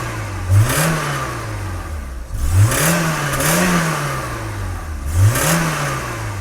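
BMW E30 engine running at idle with repeated sharp blips of the throttle, roughly four loud revs rising and settling back to a steady low rumble, close by with no talk.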